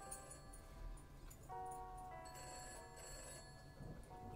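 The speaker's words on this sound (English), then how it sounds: "answer the phone" A telephone rings in a cartoonish platformer video game, repeated electronic trills sounding softly at an even pace with no talk over them.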